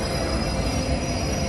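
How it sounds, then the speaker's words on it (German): A locomotive pulling a night train rolls into a station, a steady, loud rumble of wheels on rails with a high squeal running through it. "Jetzt kommt noch die Lok."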